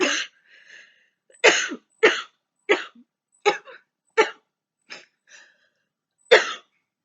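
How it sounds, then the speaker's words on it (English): A series of about nine sharp coughs, spaced roughly half a second to a second apart, close and fairly loud, with faint breaths between them. "I just had a cough."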